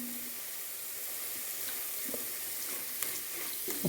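Chicken legs frying in a hot pan, a steady broadband sizzle with a few faint clinks and stirring taps, close and continuous, with no talk.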